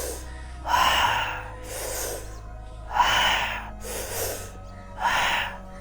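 Slow, deliberate breathing in a guided breathing exercise, four loud airy breaths spaced about two seconds apart, close and alone over a faint low hum.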